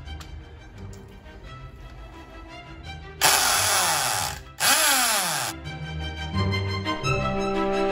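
A power drill bores into a wall during hole-patching repairs in two loud, close bursts. The first whines for over a second, and the second winds down in pitch as it stops. Quieter room noise sits on either side.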